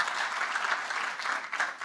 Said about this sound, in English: A round of applause again, ladies and gentlemen, for Mr. Sibusiso Dladla.